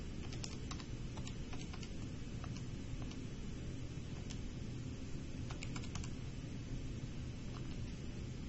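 Keys pressed on a computer keyboard while numbers are entered, light irregular taps scattered over a steady low background hum.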